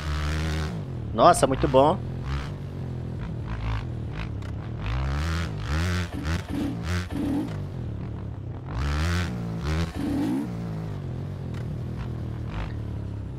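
A Honda 125 dirt bike in the MX Bikes game revs and accelerates along a trail, its engine note rising and falling in bursts beneath almost continuous excited talk.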